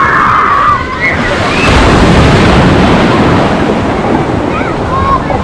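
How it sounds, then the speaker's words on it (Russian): Sea waves surge and break on a pebble shore at Lazarevskoye near Sochi, a loud continuous rush of surf with wind buffeting the microphone, swelling after the first second and holding steady to the end. "Вот такие вот волны."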